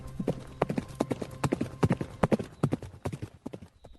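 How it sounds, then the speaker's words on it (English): A horse's hooves pounding in a gallop across open plains, a fast uneven clatter of loud close hoofbeats that thins out toward the end, with no talk. "it broke free from its tether and galloped away across the plains"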